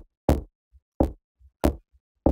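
Someone tries a locked door in the Clock Tower video game, giving four sharp, evenly spaced knocking thuds with short silent gaps between them, close and alone.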